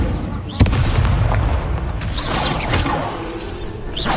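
The Incendio fire spell in Hogwarts Legacy erupts as a loud, booming burst followed by a sustained roaring, crackling rumble.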